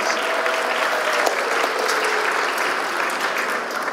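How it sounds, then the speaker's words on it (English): Steady, dense applause from a large audience at a funeral service awards breakfast, sustained and even throughout with no talk over it. "Give her a big round of applause."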